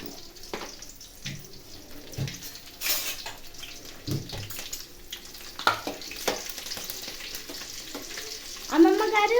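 Garlic and tempering seeds sizzle in hot oil in a pan, a soft crackling fry with occasional stirring clatters, fairly quiet, joined near the end by a voice.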